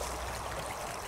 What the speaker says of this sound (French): on est sur l'Ar, une petite rivière Cévenol